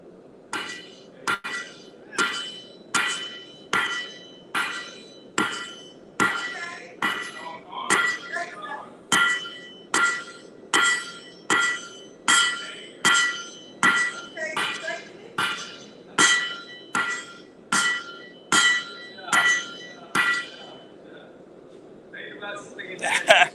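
A blacksmith's hammer strikes iron in a steady, even rhythm, about twenty ringing metallic blows in a row, with faint voices in the background.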